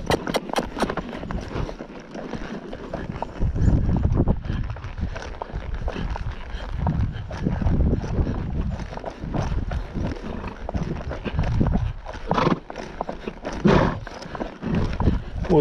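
A horse's hooves splash and thud steadily through a shallow creek, with continuous sloshing and churning close by and no talking.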